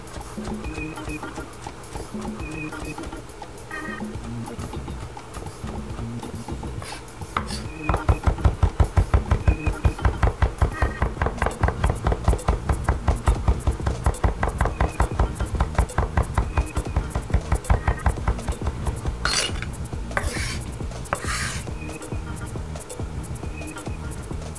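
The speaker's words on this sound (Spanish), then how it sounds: "vamos a ir picando bien fino nuestro perejil" A kitchen knife finely chops parsley on a cutting board in a cooking show, giving rapid, steady rhythmic taps that run on for many seconds and grow louder and denser partway through.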